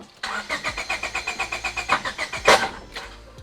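A Honda Civic hatchback engine on jumper cables cranks with a rapid, even chugging rhythm of about fifteen turns, then catches with a loud burst and settles into a rough idle.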